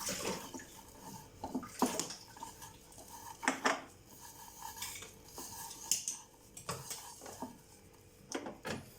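A spoon clinks and scrapes against a pan as crushed ginger and garlic are mixed for a Kerala-style squid roast, in several sharp metallic strokes with quiet gaps between them, close and fairly soft.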